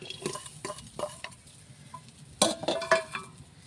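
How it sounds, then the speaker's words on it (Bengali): A spatula stirs onions frying in oil in a pan, giving a few short scrapes and knocks against the metal over a faint sizzle, with louder clanks near the end, close up and with no talking. "পেয়াজ ভাজ দিলাম"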